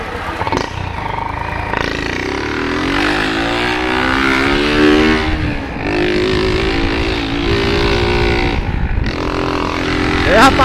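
A motorcycle engine runs close by, its note rising and falling as it revs, with people talking over it throughout.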